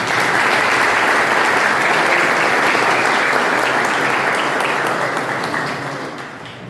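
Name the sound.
applause at a church dedication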